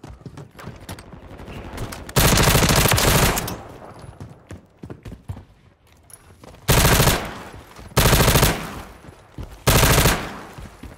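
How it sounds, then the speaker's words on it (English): Loud, close shotgun blasts in a Search and Destroy round on a favela map, coming in several separate heavy bursts of about a second each, with quieter game sounds and footsteps between them. "I'm hearing like the sound of a shotgun"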